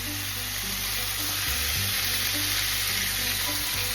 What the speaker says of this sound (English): I put the vegetable in the pan.